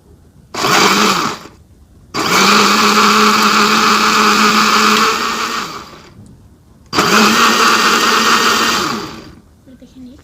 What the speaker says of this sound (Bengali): এবার আমি নামিয়ে ঠান্ডা করে ব্লেন্ডার করব।